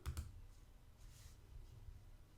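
A pair of soft mouse clicks come close together at the very start, quiet and dry, followed by a faint low room hum while video editing software is in use.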